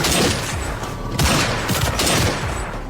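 Gunfire in an action film scene as a shot misses its target by a riverside, with several loud cracks and booms over dense, noisy ambience and no clear speech.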